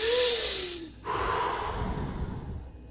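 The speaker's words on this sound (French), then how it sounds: "On va commencer par prendre une grande respiration tous ensemble." An audience at a live podcast recording in Rennes draws a deep breath together during a relaxation exercise, a long rushing inhale followed by a shorter exhale, broad and airy in a large room.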